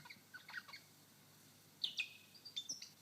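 Lyrebird imitating a crimson rosella: quiet, bright whistled notes and chirps in a few short bursts, faint and fairly distant against a hushed background.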